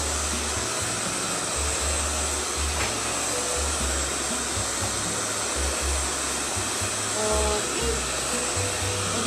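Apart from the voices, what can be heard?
hair dryer blowing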